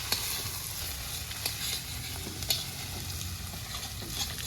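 Meat tossed into chowmein frying in a pan, a steady close sizzle with scraping stirs and a few sharp clinks of the utensil against the metal, no voices.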